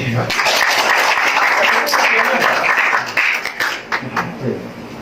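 Applause at an Indonesian community sales meeting, with a dense burst of clapping from a gathered group filling most of the clip and thinning toward the end, with voices mixed in.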